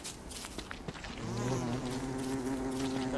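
Bees in the video game Don't Starve Together buzz in a steady, droning hum that swells in after a second, with a few faint taps before it and no talking.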